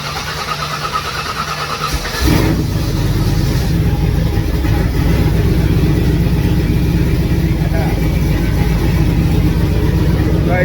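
A turbocharged 1967 Ford Mustang cranks and fires after about two seconds of quiet, then settles into a loud, steady, rough idle close by, with a voice heard briefly.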